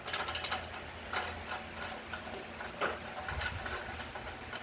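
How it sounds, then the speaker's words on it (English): A hand ratchet tightens the fender bolts on a Harbor Freight utility trailer, producing faint, close, repeated metallic clicking in short bursts with brief pauses between strokes. "let's tighten these bolts up"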